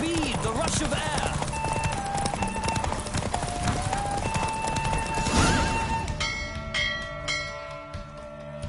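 Horse hooves clip-clopping at a gallop during a race in The Witcher 3, steady rapid beats under game music and a tone, with a character's voice talking over them.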